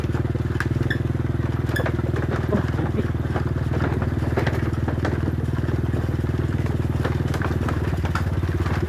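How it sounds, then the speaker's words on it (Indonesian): A motorcycle crosses a swaying suspension footbridge, its steady engine drone close and loud, with clattering boards and faint background chatter. "Ada motor."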